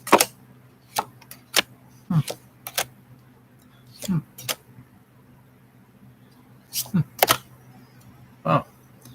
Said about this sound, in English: just cut the deck.